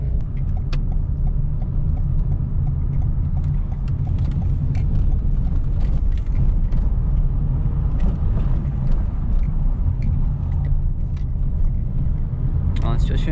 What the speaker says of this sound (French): En situation urbaine, le véhicule se faufile bien